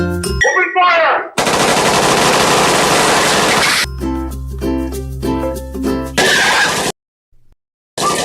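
Machine gun fire in a Minecraft game, a loud dense burst of rapid shots lasting a couple of seconds, followed by more clattering game sounds and abrupt cuts to silence.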